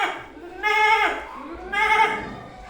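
A schoolboy imitates a goat with his voice, giving two wavering, nasal bleats about a second apart, close and clear with no other sounds.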